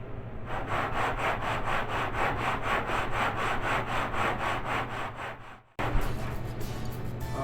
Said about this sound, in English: we're just going to sit here and sand it like crazy until we have no gaps all the way around